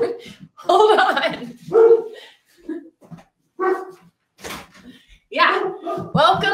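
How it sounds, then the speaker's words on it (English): A pet dog barks at the front door of a home in a few sharp, loud bursts separated by short pauses, with some indoor voices between them. "Welcome to my life with my dog, Tuka, who doesn't like anybody coming to the door or even walking by out front."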